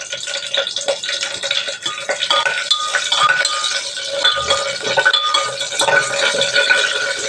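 Whole spices crackling and sizzling in hot oil inside a pressure cooker, a steady dense frying hiss with light metallic clinks, close and continuous with no talking.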